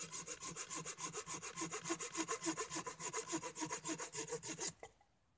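A Lidl folding hand saw cuts through a waterlogged wet branch in steady, rapid back-and-forth strokes, loud and close, rasping evenly for several seconds before stopping abruptly.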